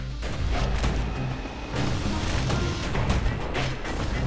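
Heavy gunfire booms from a security skiff's guns in Bastion, a dense rumbling barrage with a brief dip before resuming, loud and continuous.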